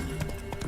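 A horse galloping in the video game The Witcher 3, a brief run of quick close hoof clops in a fast rhythm, heard alone for under a second.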